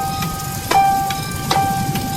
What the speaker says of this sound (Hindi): रिक्शा चलने के कुछ ही समय बाद ही तेज बारिश शुरू हो जाती है।